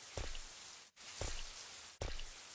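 Rain falls outside in Bio Hazard 3 (Resident Evil 3), a continuous soft patter and hiss broken by two short gaps where the sound cuts out and then resumes.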